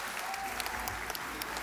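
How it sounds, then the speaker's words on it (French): Audience applauding at an esports festival League of Legends tournament final, brief dense clapping heard a little distantly, with faint voices under it. "On peut les applaudir bien fort, s'il vous plaît."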